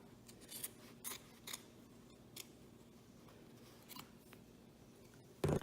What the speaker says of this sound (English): I trimmed that fabric